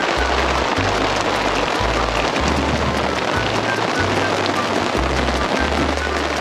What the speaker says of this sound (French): Il pleut là hein?